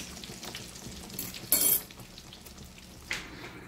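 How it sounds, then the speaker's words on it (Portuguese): Breaded beef steaks fry in a pan with a low, steady crackle, broken by a brief louder sizzling burst and a smaller flare a moment later. "eu vou fritar todos"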